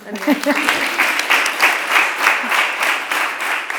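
A live audience breaks into warm, sustained applause, many hands clapping together at steady volume for the whole stretch, with a brief voice at the start.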